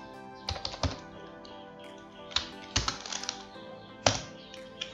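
Computer keyboard typing in irregular bursts of clicks and keystrokes, close and fairly quiet, with no talk over it.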